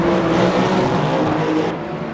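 A Jota Cadillac prototype race car roars loudly at close range in Le Mans Ultimate at Bahrain, its engine a steady high drone that drops in pitch and fades slightly near the end, with no talk.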